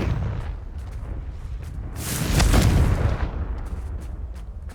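A Confringo explosive spell from the video game Hogwarts Legacy bursts into a loud, booming blast near the middle, swelling and then fading into rumbling debris amid sharp crackles and scattered impacts.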